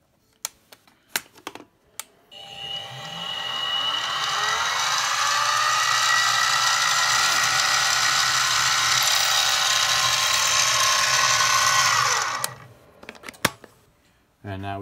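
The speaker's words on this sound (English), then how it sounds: "Now I'm going to put in my twist drill and finish the hole." A twist drill on a Harbor Freight mini mill spins up and bores steadily for about ten seconds with a whining, grinding tone, then winds down, with faint clicks before and after.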